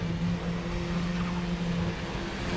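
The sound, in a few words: KTM X-Bow RR accelerating in video game RaceRoom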